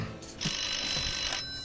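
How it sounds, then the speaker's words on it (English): A telephone rings once in a short burst, a bright buzzing trill that holds steady for about a second, close by over faint room noise. "Who was that on the phone, Louie?"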